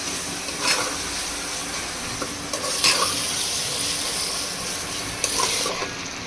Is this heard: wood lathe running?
no